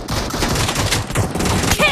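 Shotgun fire in PUBG Mobile, a quick burst of loud, close gunshots blending into a rapid fusillade with a brief voice at the end.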